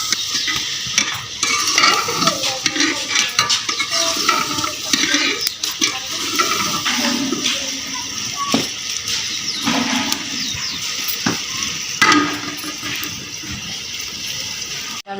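Water is poured into a home cooking pot of potatoes that have been fried with salt and chili, giving a steady rush and sizzle lasting about fifteen seconds, with scraping and stirring noises and no talking.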